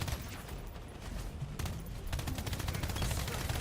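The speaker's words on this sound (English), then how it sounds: "Oh yeah, cannon. Cannon." Rapid gunfire in the strategy video game Pax Autocratica, a dense burst of repeated shots with heavier booms underneath, continuous and fairly faint throughout.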